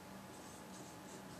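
Faint steady scratching of a pen or pencil on paper as Spanish words are written out, a soft continuous rubbing texture, quiet and close with no talk.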